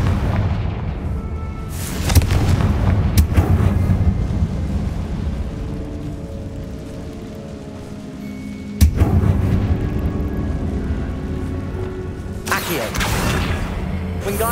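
Confringo fire spells blast in Hogwarts Legacy: several loud, booming bursts hit over a continuous low rumbling background, spaced a few seconds apart.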